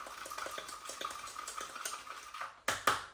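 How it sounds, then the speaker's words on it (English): Chicken wings and seasoning stirred together in a pot, with a quiet rhythmic scraping and clinking of a utensil against the pot and a couple of louder knocks near the end, no talking. "put it all into one pot, stir it all, mix this together"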